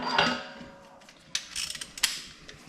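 Ratchet tightening the drain plug of a BMW X3 F25 during an oil change, several short mechanical clicks and metallic clanks in quick bursts, close and moderately loud.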